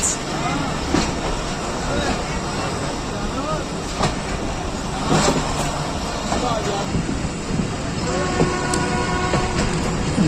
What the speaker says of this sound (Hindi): अब पाकिस्तान एक्सप्रेस जो है वो मिल रही है 40 डाउन जाफर एक्सप्रेस के साथ।